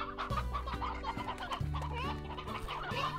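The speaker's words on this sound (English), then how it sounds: "Tons of chickens." Chickens in a coop in the Slime Rancher video game cluck continuously, several birds overlapping in busy, close, rhythmic bursts over a low background of game music.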